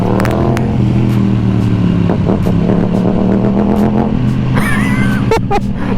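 A Ducati Panigale V4S motorcycle engine revs and burbles nearby, with a steady low drone broken by rhythmic pulsing and sharp bursts of throttle near the end.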